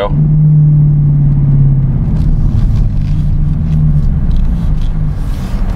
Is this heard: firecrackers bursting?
no